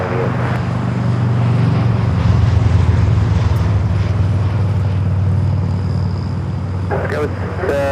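An American Airlines airliner takes off from runway 25 right at LAX, a loud, steady low engine roar that swells and holds throughout, with radio voices talking over it.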